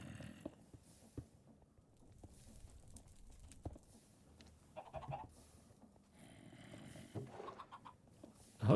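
Chickens clucking in the FBF Craft video game, scattered soft clucks and short calls at moderate distance over a quiet background, with a louder burst near the end.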